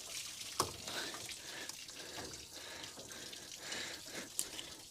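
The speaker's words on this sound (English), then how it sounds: "let's just drop this bottom hose and get this water out of here" Water drains from the bottom radiator hose of a Holden HK, a steady splashing, trickling flow with a few louder clanks and knocks, heard alone at moderate level.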